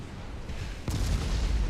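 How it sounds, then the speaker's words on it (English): A warship's ammunition magazine detonates in the naval battle game Ultimate Admiral Dreadnoughts: one loud, deep explosion bursts in suddenly after a steady low rumble and keeps roaring through to the end. "Scored an ammo detonation."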